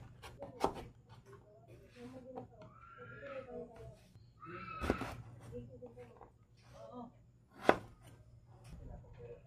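A knife chops peeled breadfruit into cubes on a board, with scattered close knocks and a few sharp strikes, under quiet talk.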